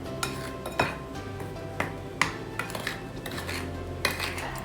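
A spoon clinks and scrapes against a bowl while sattu flour is mixed with cardamom powder, making irregular taps and rattles with brief pauses, near and quiet, with no voices.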